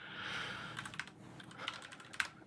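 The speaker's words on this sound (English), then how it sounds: "I'm going to type clear to clear the screen." Keys clack on a computer keyboard in a quiet room, a short run of quick, fairly faint taps with a few sharper strikes, no voices.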